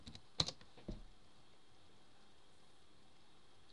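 A PIN is tapped out on a computer keyboard as a few faint, isolated keystroke clicks in an otherwise quiet room, with a last click near the end.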